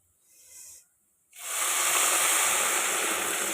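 Hot water poured into a pot holding four cups of rice, a brief faint trickle followed by a loud, steady broadband hiss and rush that fills the rest of the moment without pause.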